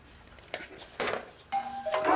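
A doorbell chimes at close range, with a few short dings followed by a sustained ringing tone.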